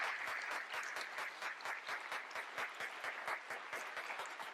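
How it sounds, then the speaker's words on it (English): An audience breaks into steady, dense applause at a talk with Ken Burns, the clapping loud and sustained without pause or any voices over it. "please join me in a round of applause."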